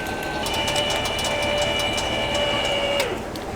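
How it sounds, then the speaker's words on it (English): An electric tongue jack on an RV trailer runs at a campground, its motor giving a steady whine with a faint clicking rhythm, close and fairly loud, with the pitch dropping as it stops near the end. "So this is my electric tongue jack. It means I don't have to crank it."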